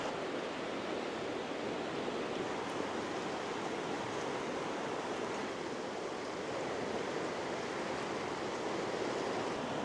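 Steady ocean surf washes against a desert island shore, a constant broadband hiss of breaking waves with no talk.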